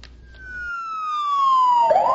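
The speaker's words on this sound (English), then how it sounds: "emergency vehicles approach with lights and sirens" A single siren wail glides slowly downward in pitch as an emergency vehicle passes, ending in a burst of road noise.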